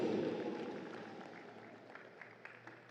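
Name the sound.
crowd applause for Team Papua New Guinea basketball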